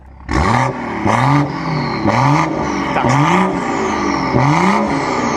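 A loud exhaust on a cheap BMW fitted with a 600 hp Supra engine and upgraded turbo revs five times in a steady rhythm, each sharp rise in pitch followed by a turbo whoosh and crackle as it drops back.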